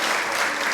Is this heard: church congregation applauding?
yes